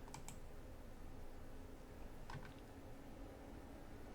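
Faint computer keyboard typing and clicking comes in two short bursts of quick taps against a quiet hiss.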